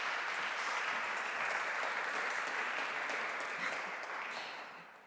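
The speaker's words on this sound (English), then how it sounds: "Applause, please." A conference crowd at re:publica 2013 applauds a speaker, with sustained, even clapping that tapers off in the last second.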